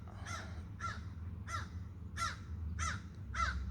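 A crow caws six times in an even, unhurried series, each call harsh and clear, at moderate distance over a low rumble of background noise.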